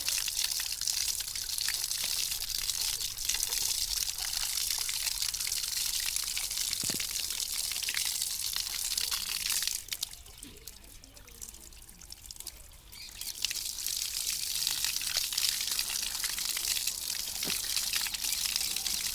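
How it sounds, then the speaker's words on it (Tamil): Steady running tap water splashes and pours continuously while aatukal pieces are washed clean for a vegetable soup, briefly quieter midway before the flow resumes, with no talking. "இப்போ அது 2யும் நல்லா கழுவி சுத்தமா எடுத்துக்கலாம்."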